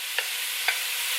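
Chopped sweet onion fries with sausage in a pot, a constant close sizzle with two quick clicks of a stirring utensil.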